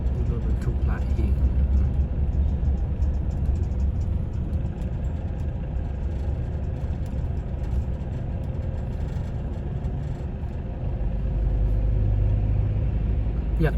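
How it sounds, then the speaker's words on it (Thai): Heavy trucks and buses crawl through congested road traffic at night, a steady low engine rumble and idling drone that stays loud and continuous, with people talking over it. "รถบรรทุกหลายแฮง"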